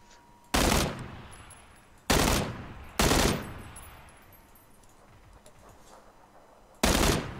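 Gunfire in the video game PUBG, four loud single shots spaced a second or more apart, each ringing out with a long echoing tail, with no talk over them.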